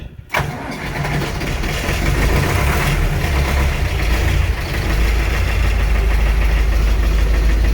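A cold Ursus 6824 tractor engine starts up at -11°C after a week unused and settles into a loud, steady, rough idle with a deep low rumble, running continuously close by in a garage.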